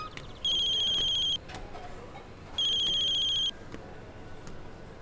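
A telephone ringtone sounds in two identical electronic bursts, each about a second long with a gap between, moderately loud over quiet indoor background.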